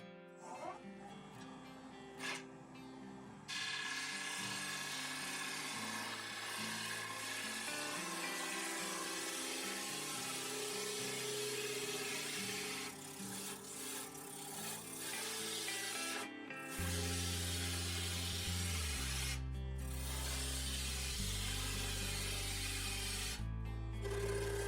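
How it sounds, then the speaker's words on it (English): A spindle gouge cuts wood on a lathe while turning a pentagon-shaped bowl, giving a steady scraping, rubbing hiss over a low motor drone that runs continuously, with brief breaks as the tool lifts off the piece. "That's doing a much better job of coming in with that spindle gouge."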